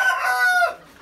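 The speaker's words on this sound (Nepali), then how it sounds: "यी दुइटै पाँचौँलेको पोथीहरू" Chickens of a five-toed breed cluck and crow close by in one short burst, a loud rooster-like call that fades out after about a second, with no talking.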